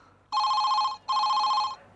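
An office telephone rings with an incoming call in two loud, steady electronic rings separated by a brief pause, heard clearly against a quiet room.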